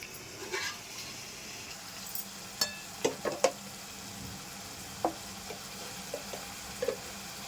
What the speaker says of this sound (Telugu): ఈ టమాటాలు మగ్గిన తర్వాత ఈ చల్లారేలోపు ఫ్రై చేద్దాం